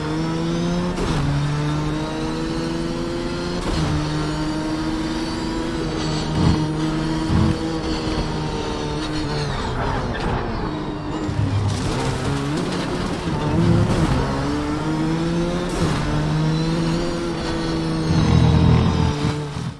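Race car engines in the racing game Project Cars 3, revving and shifting through gears with rising and falling whines, tire noise and other cars passing in a muddy mix, loud and continuous.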